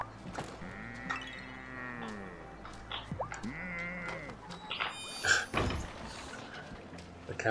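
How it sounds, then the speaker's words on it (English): Several cows moo in a tonal, game-like way inside a video game barn in Wylde Flowers, with a door sliding and clunking nearby amid soft background noise. "The cows are cute and noisy"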